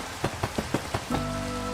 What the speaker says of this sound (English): This world specifically, dude, it rains constantly.